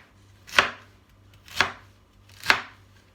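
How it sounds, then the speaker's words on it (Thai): A knife chops chicken pieces for a pineapple curry in three evenly spaced, sharp strikes, close and clear, with quiet gaps between them. "สับเขาเลยจ้ะสไลด์สไลด์แล้วก็สับสับสับ"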